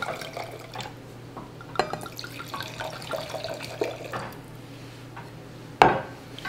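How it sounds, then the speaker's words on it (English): Red wine poured into a glass in a kitchen, a soft liquid trickle with light clinks of glassware, close and fairly quiet against a steady background hum. "Pour the chef a glass of wine."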